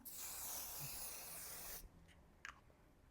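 Makeup setting spray misted from a bottle, a close, continuous hissing burst lasting nearly two seconds, followed by quieter handling clicks.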